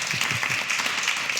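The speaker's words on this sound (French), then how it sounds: "On peut les applaudir pour les accueillir chaleureusement." Applause from an audience welcoming a group of school guests on a local live broadcast: a brief, steady wash of dense clapping at moderate volume, heard alone.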